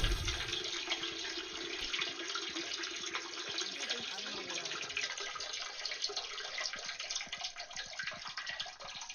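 Rushing water from a video-game toilet flush, running steadily and fairly loud for the whole stretch, a continuous broadband hiss of water draining with no talking over it.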